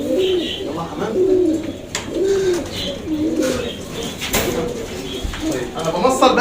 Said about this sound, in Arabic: يلا يا حمام.